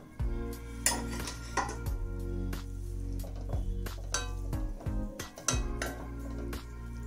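A spoon scrapes and clinks against a metal pot while hot cooked rice for vangibath is broken up and loosened, giving repeated short metallic taps over a steady low hum.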